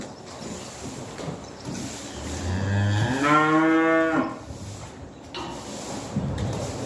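A suckler cow gives one long, loud moo in a farm shed, rising and falling over about a second and a half, against a background of rustling and shuffling livestock noise.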